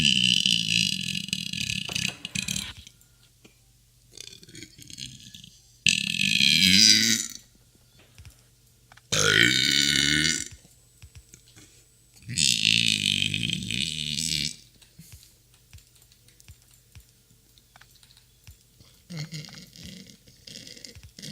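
Loud, drawn-out burps come one after another in a compilation of burps and farts, separated by short quiet gaps, with some vocal sounds and brief bits of voice between them.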